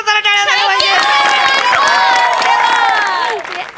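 A studio audience at a Marathi comedy stage show breaks into loud, sustained cheering and clapping, with voices whooping over the applause before it fades near the end.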